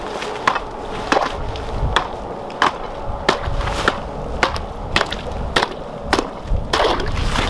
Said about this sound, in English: I'm just gonna start chiseling here